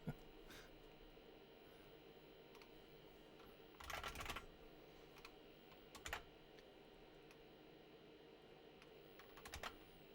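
Computer keyboard typing in short bursts over a steady background hum, with three clusters of fast keystrokes spaced a few seconds apart, fairly close but moderately quiet, no talking.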